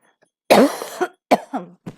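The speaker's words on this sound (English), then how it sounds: "I got a cough" Three harsh coughs in a row, close and loud, the first longest, with short silences between them.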